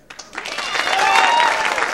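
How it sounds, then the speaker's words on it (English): A game show studio audience breaks into applause, starting with a few isolated claps and swelling quickly into loud, dense clapping mixed with cheering voices. "With your applause, is Patty the winner?"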